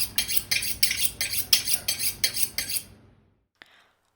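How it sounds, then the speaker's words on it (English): A kitchen knife is sharpened with a run of about ten rhythmic metallic scraping strokes, close and bright, which stops and leaves near silence apart from one faint final tick. "Have you seen any knife sharpening like this?"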